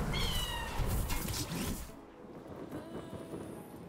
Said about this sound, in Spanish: Cada vez que lo abres suena el gato.